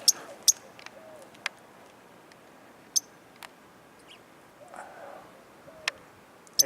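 A bird calling near its nest in a backyard, giving soft, owl-like hoots that come as scattered short notes with quiet gaps between them, faint against light outdoor background.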